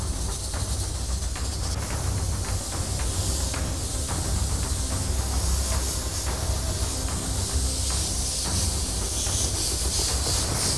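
An airbrush blows a steady stream of air to dry paint on a clown mask, giving a continuous close hiss with slight fluttering texture and no speech.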